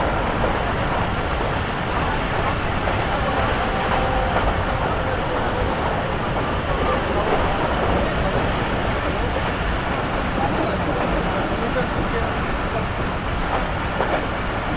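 Inside the old coaches of the Karakoram Express, a continuous loud rolling rumble of wheels on the rails carries on without pause, dense and unchanging.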